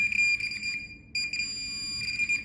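A Minelab Pro Find 40 pinpointer over an iron target gives a high electronic tone that pulses on and off, with a clear break in the middle before it resumes, close and steady in volume.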